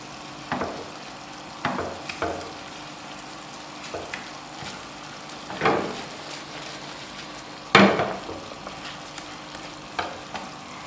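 Honey garlic chicken cooks in a pan with garlic and honey, giving a steady close sizzle punctuated by several sharp stirring scrapes and clanks, with no talking.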